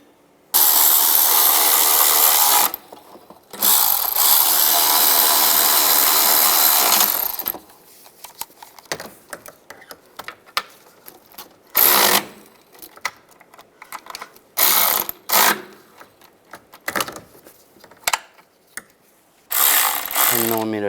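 On a 2007-18 Jeep Wrangler, a ratchet tightens the two bolts on a bracket, with long steady bursts of clicking followed by shorter choppy strokes and pauses, close up and with no talking.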